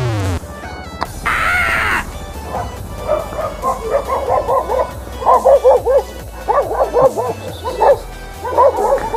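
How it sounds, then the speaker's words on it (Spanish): Several street dogs in Quito, Ecuador bark repeatedly in rapid, overlapping bursts, close and loud, with a brief whine at the start. "Perros de mierda."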